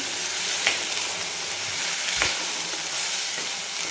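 Tomato and green chilli paste with coriander is sautéed in masala, a steady soft sizzle and frying hiss running throughout, with a couple of brief stirring clicks and no talking.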